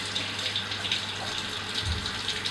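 A foundation brush swishes around in water with washing up liquid, producing a continuous close sloshing and gurgling wash with no talking.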